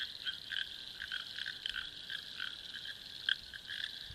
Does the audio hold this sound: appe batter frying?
no